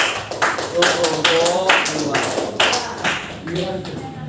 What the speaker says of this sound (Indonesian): Oh ya, tepuk tangan.